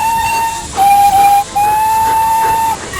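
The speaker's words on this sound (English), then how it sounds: "he heard a loud whistle" A loud steam engine whistle sounds in three long sustained blasts, clear and near, with only a short pause between each.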